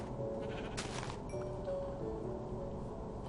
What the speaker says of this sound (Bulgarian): Овцете тук са ми доста важни